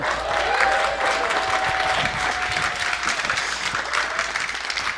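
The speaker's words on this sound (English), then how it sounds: "let's give a huge round of applause for TJ Woodward." Sustained applause from a sizable crowd welcoming a speaker at an event, dense and steady clapping that fades slightly toward the end.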